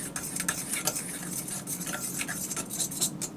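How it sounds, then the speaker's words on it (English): A fork stirs dry lemon cake powder in a bowl, giving a steady scraping and light clinking of metal against the bowl, close and continuous. "you want to make sure that every single bit of the powder that is in the bowl is definitely all mixed together"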